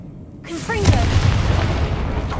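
A Confringo spell blast in Hogwarts Legacy goes off as a loud, booming burst that ends a short silence, leaving a rumbling low tail under faint game sounds.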